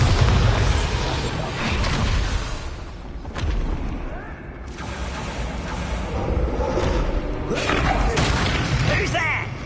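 Bombarda spell explosions in the Hogwarts Legacy video game, several loud booming blasts and bursts over constant rumbling game noise, with some speech present.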